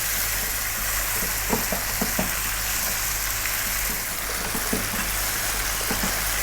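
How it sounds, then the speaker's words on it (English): Onions for a lamb curry cook down in a pan over high heat, a loud, dense sizzle running throughout with occasional faint spatters and stirring taps. "Let's get those onions cooked down a little bit."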